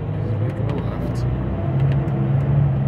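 A 2019 Setra shuttle bus on the Red Line replacement route from Park Street to JFK/UMass, heard from inside as a steady low engine drone while it turns left, with a few faint rattles above it.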